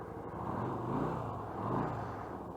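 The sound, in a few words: 2013 Yamaha V Star 250 carbureted motorcycle engine starting and idling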